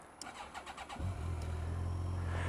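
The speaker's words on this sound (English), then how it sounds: "Let's start it up." A 2001 Yamaha FJR 1300 motorcycle cranks briefly with a whirring starter, then fires and settles into a steady, close, low idle.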